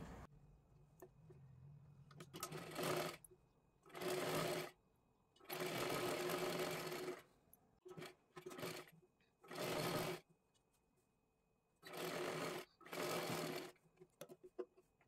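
Sewing machine running a straight stitch on a size-40 katori blouse, in six or seven distinct bursts of steady stitching separated by pauses, close and fairly loud, with faint room noise between runs.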